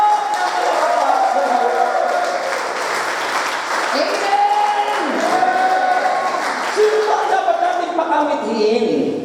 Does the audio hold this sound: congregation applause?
yes